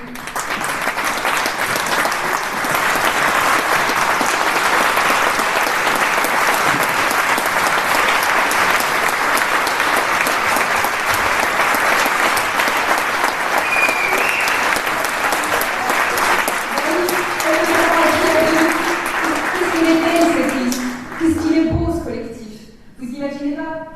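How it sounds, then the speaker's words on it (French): Sustained, loud applause from a political rally audience fills most of the stretch, dense and even, then fades toward the end as a voice begins speaking. "ça mérite bien les applaudissements pour tout cela"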